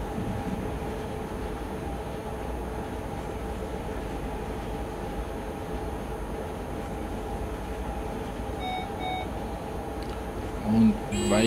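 A train in Train Simulator 2019 rolls over a track switch on an ETCS-equipped line, giving a steady, dense rail rumble throughout with a couple of brief louder knocks near the end.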